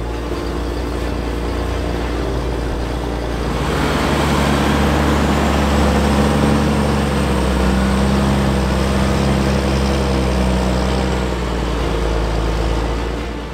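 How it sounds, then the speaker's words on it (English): A tractor with a six-cylinder Caterpillar engine runs with a steady, deep, loud drone that swells slightly after a few seconds and holds throughout, with no voices. "Only a handful of new tractors could top the distinctive sound of its 6-cylinder Caterpillar"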